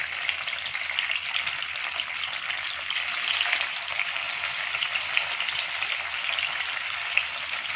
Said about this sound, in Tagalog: At ngayon, ilalagay na natin yung tokwa.